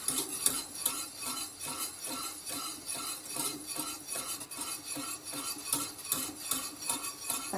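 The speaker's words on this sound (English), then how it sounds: "Stir that in until the butter melts." A spoon stirs cubes of butter into lemon curd in a pot, scraping and clinking against the sides in a steady, repetitive rhythm, close and moderately loud with no talking.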